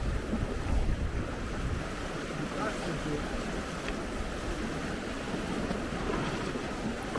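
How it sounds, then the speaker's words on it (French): Steady rushing wind and broad wash of water against a sailboat running downwind at about six knots, constant and fairly loud, with no clear voices. "Il y a 10-12 nœuds de vent apparent au vent arrière."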